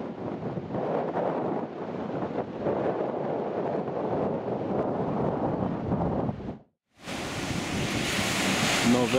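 Surf and wind at Himatangi Beach, New Zealand, a steady close roar of breaking waves and gusts that cuts out briefly and then comes back brighter and louder.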